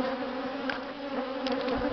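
An angry swarm of bees from a hive drones steadily and loudly, a dense continuous buzz with individual insects flicking past close to the microphone.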